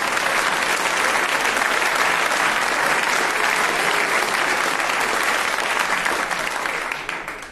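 Dense, loud audience applause at a cabaret show, sustained clapping from a full hall that holds steady and then begins to fade at the end.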